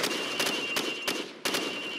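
Rifle fired from the hip in Call of Duty 4, several sharp individual shots in quick, irregular succession, moderately loud against a steady background hum.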